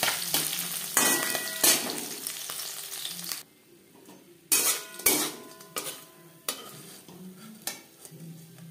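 Small puti fish, salted and coated with turmeric, fry in hot oil with a loud, crackling sizzle, broken by sharp clanks of a utensil against the pan and a brief quieter lull midway.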